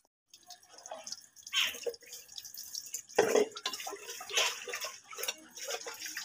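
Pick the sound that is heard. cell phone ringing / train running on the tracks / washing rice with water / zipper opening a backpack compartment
washing rice with water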